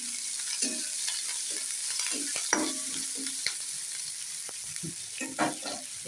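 Onion, green chili and cumin fry in oil, giving a steady sizzle throughout with scattered stirring clatters and scrapes close by; no one speaks.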